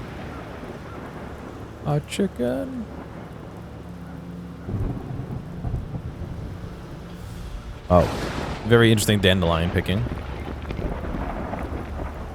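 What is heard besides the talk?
thunderstorm in The Black Grimoire: Cursebreaker video game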